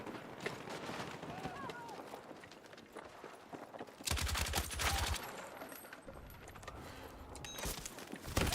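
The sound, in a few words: gunfire in video game Battlefield 6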